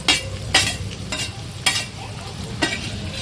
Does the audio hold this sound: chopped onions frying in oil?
yes